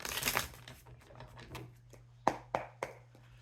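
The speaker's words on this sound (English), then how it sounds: "one more good shuffle for Big J." Tarot cards being shuffled by hand during a reading: a riffle of papery rustling, then three sharp snapping slaps of the deck, close and fairly quiet over a low steady hum.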